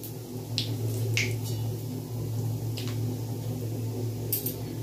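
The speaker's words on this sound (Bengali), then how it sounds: "এবার ফোড়নটাকে কিছুক্ষণ একটু ভেজে নেব।" Whole cumin, dried red chillies, whole garam masala and bay leaves frying in hot mustard oil: scattered sharp pops and crackles over a constant low hum, close and moderately loud, with no talk.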